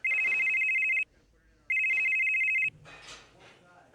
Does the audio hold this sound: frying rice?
no